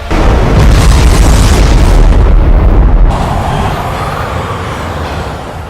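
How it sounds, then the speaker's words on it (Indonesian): A bomb dropped onto a bunker explodes in an action film scene, a loud deep boom that sustains heavy rumbling before easing into a lower, lingering roar. "Operator Dawn menjatuhkan bom di atas mereka"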